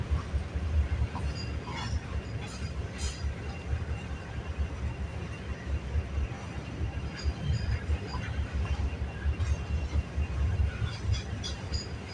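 A CPKC freight train rolls past trackside near Kinnear Yard, a long continuous rumble of wheels and rail cars with faint squeals and clacks, loud and close.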